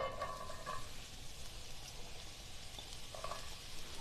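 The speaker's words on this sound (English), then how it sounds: "So I've got the olive oil in. What I'm going to do is add my onions." Chopped onions hit hot olive oil in a pan on a gas stove, a steady faint sizzle and crackle with no talk over it.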